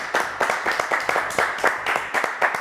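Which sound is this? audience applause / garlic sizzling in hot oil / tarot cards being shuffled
audience applause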